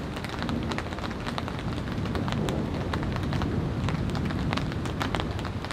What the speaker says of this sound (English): Here comes the rain, everyone.